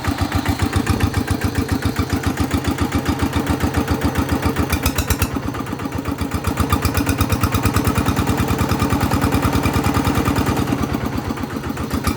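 A small single-cylinder Kubota RT100 walk-behind tractor engine chugs steadily and loudly with a rapid, even thumping rhythm, driving a shaft water pump without pause throughout.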